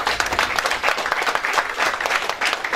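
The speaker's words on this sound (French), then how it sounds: "Sous vos applaudissements, s'il vous plaît." Lively applause at an awards ceremony for Gabonese news media in Paris, close and loud, with distinct hand claps pulsing in a quick uneven rhythm through a dense crowd of clapping.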